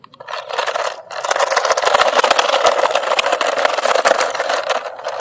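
A toy RC garbage truck's small electric motor whirs and strains as it drives over a rough road, a steady buzzing, grinding drone that runs continuously after a brief start-up.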